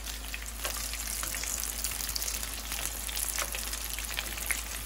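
Crispy potato tacos frying in a frying pan over medium heat give a dense, steady crackling sizzle with scattered pops, close and continuous without any voices.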